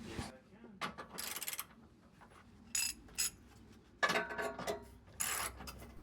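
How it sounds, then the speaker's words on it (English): Ratcheting mechanical clicks and clanks from a jack being lowered under a Range Rover Sport L320 during a fuel tank strap job, coming in several short bursts with quiet gaps between them. "Can you lower the jack a bit?"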